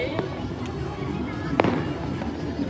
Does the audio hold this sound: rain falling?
no